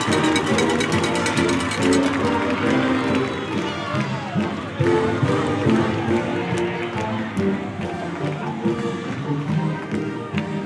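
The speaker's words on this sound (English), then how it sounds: "there's the first touchdown for this Summit offense, and you can hear that crowd" A large football crowd at a high school game between Summit and Bend roars and cheers steadily after Summit's first touchdown. The noise stays loud and dense throughout, with scattered shouts.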